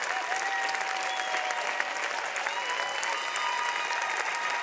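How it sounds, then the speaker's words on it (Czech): Loud, sustained applause from a large crowd at a televised dance competition show, steady clapping filling the whole stretch with no break. "A neutichajúci potlesk"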